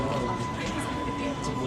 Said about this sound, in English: We've made it onto the tube.